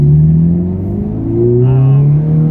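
A Ferrari F430 with a converted 6-speed manual gearbox revs loudly and close, its engine note rising and falling with a gear change midway and a sharp climb in pitch.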